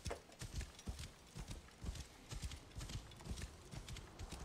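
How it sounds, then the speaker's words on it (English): Hooves clip-clop in a steady, fast galloping rhythm as a horse runs in Assassin's Creed Origins, the repeated thuds loud and close over a constant background rush, with no talking. "This horse must be fucking tired and hungry."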